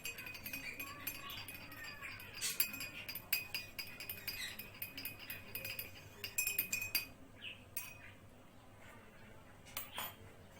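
Tea glasses clinking on a balcony as tea is poured, a series of sharp bright glass chinks scattered irregularly over a soft background, fairly close, with faint voices now and then.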